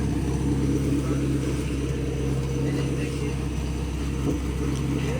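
A new car's engine runs with a heavy, constant low rumble throughout, loud and close, with no clear rev peaks standing out.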